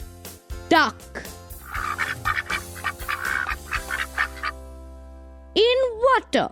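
A duck quacks in a series of nasal calls, some rapid and clustered, others drawn out, heard close and fairly loud, with a brief stretch of quiet between the bursts.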